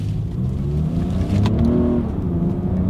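A 2022 Lexus RX 350 SUV accelerating hard during a paddle-shifter test, its engine note climbing and shifting up through the gears, heard close and loud from inside the cabin with no talking.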